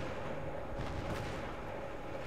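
Steady rumbling explosions and battle din in the video game Battlefield 3, a dense continuous wash of distant blasts and gunfire with no clear breaks.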